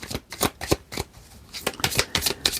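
Oracle cards being shuffled by hand: a quick run of crisp, papery riffling bursts in an irregular rhythm, close and fairly loud, with no talking.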